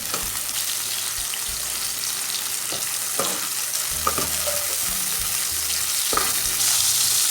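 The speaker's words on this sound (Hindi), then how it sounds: "कटे हुए टमाटर, एक मिनट तक फ्राई कर लेंगे।" Chopped tomatoes frying in mustard oil in a pan make a constant loud sizzle, with occasional utensil scrapes and taps on top.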